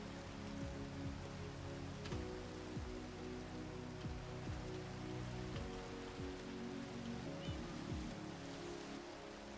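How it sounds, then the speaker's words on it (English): Rain falling in the Minecraft video game, a faint steady patter of drops with a soft hiss, heard at low level with a few low tonal chirps passing beneath. "Of course, it's raining"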